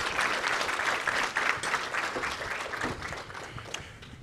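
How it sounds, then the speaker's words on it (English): A conference audience at an OpenStack technical talk gives a round of applause as the next presenter is called up, a thick wash of clapping that gradually thins and fades toward the end. "get a quick round of applause for Jim Tricarico"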